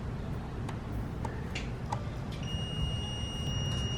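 Short electronic beeps from a multimeter's continuity tester as probes touch connector pins during wiring work on an LS-swapped S10 Blazer, a few brief tones over quiet garage noise, ending in a sustained beep.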